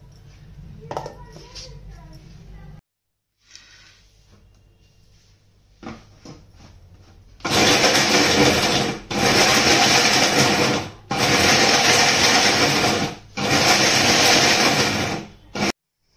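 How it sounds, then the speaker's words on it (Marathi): Mixer grinder on pulse mode grinding dried coconut into fine shreds, four loud whirring bursts switched on and off in a regular rhythm after quieter handling noises. "पल्स मोडवरच मिक्सर चालवायचा"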